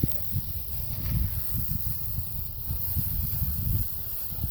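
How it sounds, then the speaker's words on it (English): A continuous hissing spray of water from a sprayer washing an ATV or dirt bike runs throughout, close by, with low rumbling splashes as it hits a surface. "just get a nice sprayer and just spray it down with the rest of your bike there"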